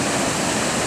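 A normally small creek in Boulder, Colorado, swollen by flooding, roars as a dense, steady rush of water, loud and close with no voices.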